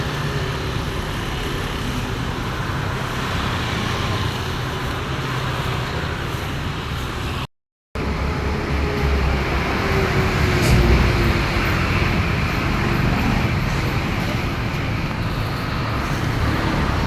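Steady broadband road noise from a holiday-season traffic jam, with car engines and tyres rumbling continuously at moderate level, cut by a brief dropout midway and no talk.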